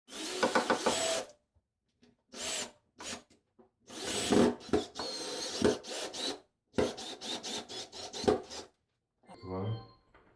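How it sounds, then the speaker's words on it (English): Repeated bursts of rasping, grinding drilling as screws are driven into board while installing a shower niche, several short runs separated by pauses, close and fairly loud. "I'm going to drill them inside"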